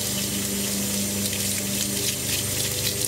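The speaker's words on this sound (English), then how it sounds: "And then we're gonna rinse it" Water runs steadily from a tap over an EcoTools makeup brush being rinsed at a sink, a continuous close gush and splash with no talking.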